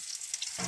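Food sizzling in a pan while camping at dusk near Buffalo Creek, Colorado: a steady close hiss with a brief louder burst near the end, no voices.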